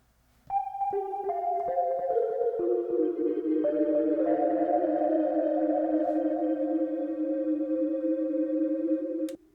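An Arturia MicroFreak synthesizer plays sustained notes stacking into a chord, each tone smeared by a delay effect that repeats and blends the notes into a shimmering wash.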